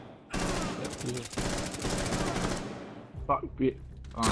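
Rapid automatic gunfire rattles in loud, dense bursts during a Rainbow Six Siege match, fading after a few seconds into short, sharp exclamations from a player's voice.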